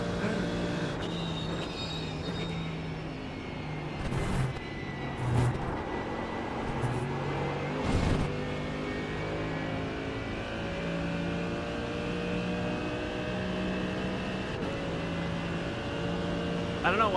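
A GT3 race car engine in the iRacing sim roars steadily throughout, with stepped pitch changes through the gears and a few louder bursts, while a voice talks over it.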